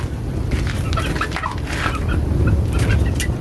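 Young chicks cheep and peep in a coop, a busy, fairly loud chorus of overlapping calls over a low rustling background.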